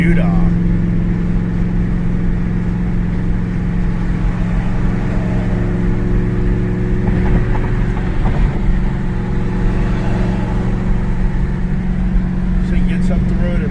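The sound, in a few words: Camaro Z28 engine driving in fifth gear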